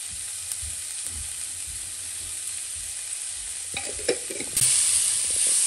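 Rajma filling frying with chilli, goda masala and salt in a pan, a steady sizzling hiss with light stirring taps near the end, close and even.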